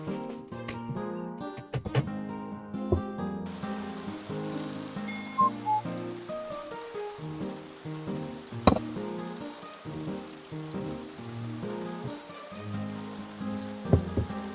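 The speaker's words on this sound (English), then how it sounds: "That rain sound is so soothing in this game to me." Steady rain falls in the video game Staxel, a soft continuous patter running beneath melodic game music with occasional brighter clicks.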